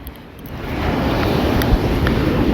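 Strong beach wind rushes and swells over the microphone at a kite school in Sri Lanka, with surf rolling faintly behind; no talking.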